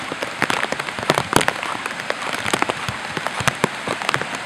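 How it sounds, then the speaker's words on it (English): Heavy rain during Hurricane Irene in Vermont, falling hard in a dense, steady patter with sharp, close drops striking near the microphone. "Raining pretty good."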